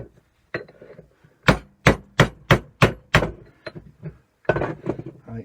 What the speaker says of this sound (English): There's a gentle hammer action.